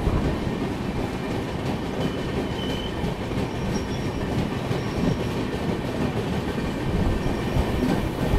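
A passenger train passes close by near Dharmavaram railway station, a steady loud rumble of rail wagons with faint wheel squeal, heard continuously without talk.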